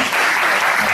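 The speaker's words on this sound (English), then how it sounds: "Let's give them a round of applause" Dense, loud audience applause at a product demonstration event, a continuous wash of clapping for a single second.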